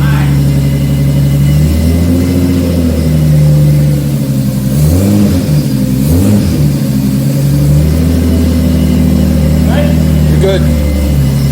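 Sports car engine, a Toyota Supra or Mazda RX7, loud and close, idling and then revving up and down in rising and falling sweeps, with people talking over it.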